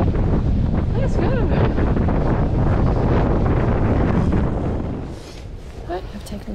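Heavy wind buffeting a microphone while riding out on a road, a loud, constant low roar that eases off near the end into quieter gusts.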